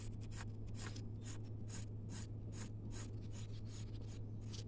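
Steady, close scraping of a knife blade over a dry plant stem, stripping the green outer layer in a quick run of short rhythmic strokes under a constant low hum.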